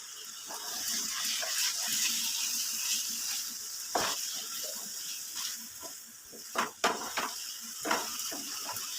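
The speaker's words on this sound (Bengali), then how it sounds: "আমি প্রথমে একটু মশলা জল দিয়ে দিচ্ছি, অনেকটা মশলা লেগেছিল সেই জন্যে তাতেই জল দিয়ে এইভাবে কষিয়ে নিচ্ছি।" Water hits spiced mutton cooking down in a pan, Punjabi-style kosha, raising a steady, close hissing sizzle with a few sharp knocks and bubbling bursts toward the end.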